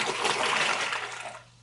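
Water gushes out of a tipped glass jar covered with a window screen, a short splashing pour that tapers off over about a second and a half.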